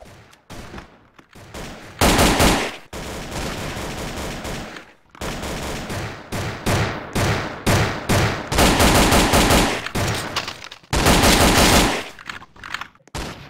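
Rapid automatic gunfire from a shooter video game, loud and close, coming in dense bursts with brief pauses between them, with no talk over it.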